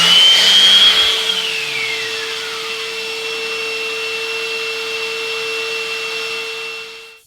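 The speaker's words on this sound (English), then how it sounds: "I just keep running it across the belt on my belt sander" Belt sander running steadily as a wooden bar stool leg is pressed against the belt, a loud, even motor whine with a rougher sanding rasp at first, holding constant before cutting off at the end; no talking.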